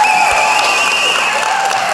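Cheering and applause from a church congregation at a Fourth of July preaching event, a dense steady wash of clapping and whoops filling the whole stretch with scattered voices in it.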